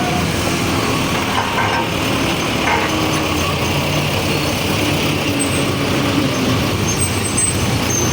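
A truck rumbles steadily along an unpaved construction road for a new route, its engine droning loud and continuous throughout with no voices over it.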